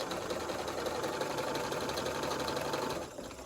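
A sewing machine runs continuously at an even clip, stitching pieced quilt fabric for a flower-patch block, a close mechanical whir that drops off and stops near the end.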